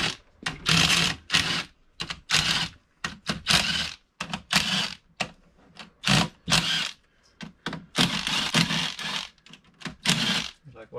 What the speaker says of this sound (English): Taking the filter off now, and Jim is exposing the valve body